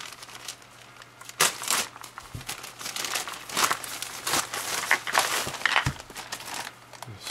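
Crinkly plastic wrapping on a posted parcel being pulled open and crumpled, with loud bursts of rustling and crackling coming in irregular waves, close up and alone with no voice.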